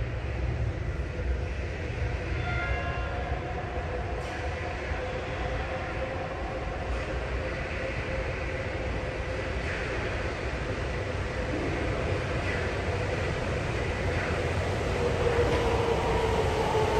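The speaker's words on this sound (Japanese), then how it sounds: "まもなく1番ホームに真駒内行きが到着します。" A Sapporo subway train bound for Makomanai pulls into platform 1 at Asabu Station, a steady loud rumble of wheels and motor filling the whole stretch with faint squealing tones and no talk.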